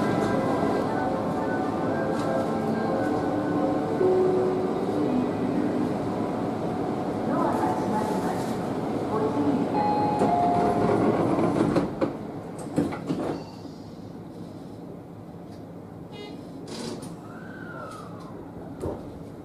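A Tobu Noda Line express train to Omiya rumbles and hums as it pulls away, with a clunk and a rising whine near the end; announcements and voices carry over it.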